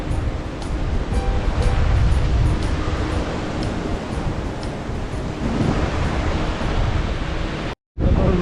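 Sea waves and gusting wind at the Thottappally spillway, where the sea meets the backwater, make a steady, loud wash of surf and a wind rumble on the microphone, which cuts out briefly near the end.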